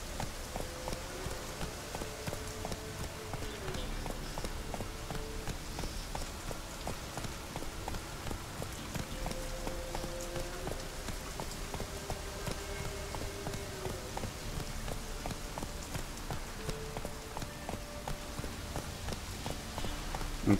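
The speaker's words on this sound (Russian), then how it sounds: "Просто дождь." Steady rain falls in The Witcher 3: Wild Hunt, a constant moderate patter with faint clopping hoofbeats and soft game ambience beneath it, no talk over it.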